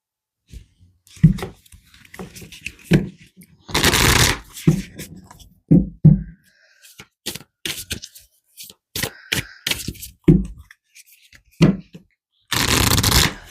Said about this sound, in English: Let's pull some more cards here for you guys.